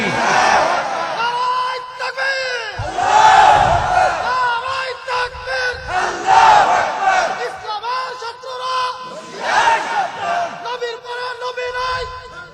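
A large crowd at a fiery Islamic religious sermon roars a chanted slogan in unison, three loud surging waves of massed voices with brief lulls between, filling the space close and powerful.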